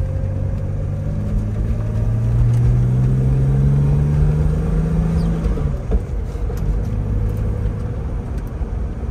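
A 1984 BMW 633CSi with a five-speed manual and a straight six pulls forward in a steady, close, smooth drone. The engine note climbs as it accelerates, then eases off, and no one talks over it.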